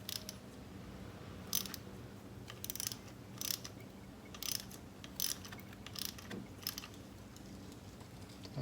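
Ratchet clicks in short bursts while coil pack bolts over a car's spark plugs are snugged down, the quiet ratcheting repeating about every half second to second against a low background hum, no talking.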